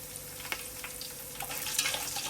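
Green chillies frying in hot oil with reddened garlic in a tempering, a soft steady sizzle close by with faint scraping.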